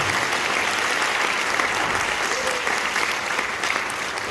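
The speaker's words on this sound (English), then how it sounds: "let's clap for her now" A high school end-of-year concert audience breaks into dense, continuous applause for a trumpet player, a full, loud wash of many hands clapping at once that holds steady throughout.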